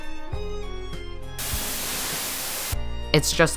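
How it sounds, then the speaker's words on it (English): A static white-noise synth patch in GarageBand hisses as a steady broadband wash for over a second, between stretches of synth tones, followed by brief speech. "static noise"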